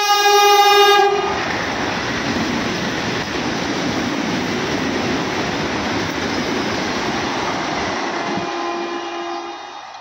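A train arrives at a station with a loud horn blast at the start, followed by a steady rumble and clatter of rail cars rolling past, fading slightly near the end.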